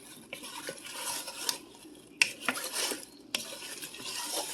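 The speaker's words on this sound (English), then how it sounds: "you're going to take your spoon and you're going to mix everything" A spoon stirs chopped apples in a pan for homemade applesauce, close scraping and clinking strokes against the pan in irregular bursts, with a faint sizzle underneath and no talking.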